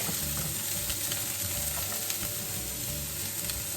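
Chopped onion sizzling steadily in a hot pan for a plantain stir fry, a loud continuous crackle up close with no talking.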